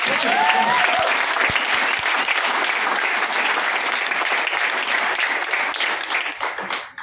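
Sustained, dense applause from a seated audience at a marketing company gathering in Kanjangad, filling the whole stretch at steady loudness before trailing off at the end, with no talk over it.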